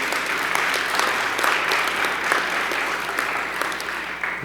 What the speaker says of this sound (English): Clap for him indeed.